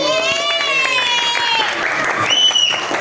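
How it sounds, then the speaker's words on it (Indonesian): Primary-school children clapping for a classmate in a fifth-grade classroom, quick scattered claps mixed with excited young voices calling out close by. "Ya, tepuk tangan buat Alpi."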